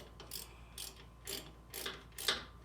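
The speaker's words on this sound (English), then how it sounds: "So we're tightening up the calipers again that we broke loose before." A ratchet wrench tightens brake caliper bolts on a 2007 Range Rover Sport Supercharged, giving five quick, close clicking bursts at a steady rhythm with no talk.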